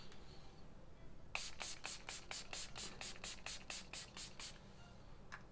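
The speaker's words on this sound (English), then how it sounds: "Give it an initial spray." Rose-scented facial setting spray misted onto the face in a quick run of about a dozen short, crisp hisses, close and fairly loud over a quiet room, followed by one more brief spritz.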